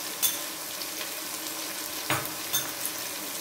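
Crushed green chillies and garlic, added alongside ginger, sizzle steadily in a hot pan, with a few soft clinks and stirring scrapes over the frying hiss.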